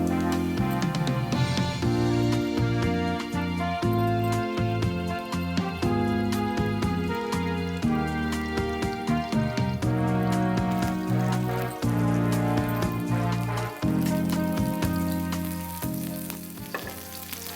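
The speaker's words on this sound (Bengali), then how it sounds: "তেলটা গরম হয়ে গেলে আমি ফুলকপিগুলো লাল করে ভেজে নিতে হবে।" Cauliflower florets fry in hot oil with no salt or turmeric added, producing a loud, dense crackling sizzle that runs continuously for a long stretch, with occasional stirring clatter and no talking.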